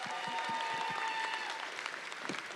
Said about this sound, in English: Clap your hands for both of them.